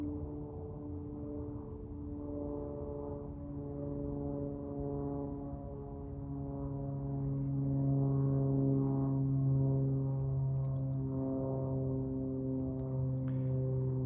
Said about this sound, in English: There's another airplane flying overhead